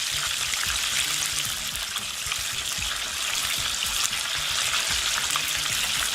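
Food deep frying in oil at 375 degrees, a steady dense sizzle and crackle of bubbling oil that runs loud and unbroken throughout, with no voices over it.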